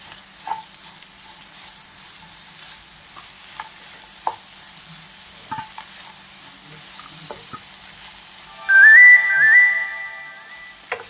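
Green chilli, coriander leaves and garlic are fried and stirred in a pan with soft intermittent scrapes and clicks over a faint sizzle, close by; near the end a loud warbling whistle, like a pressure cooker, briefly rises over it.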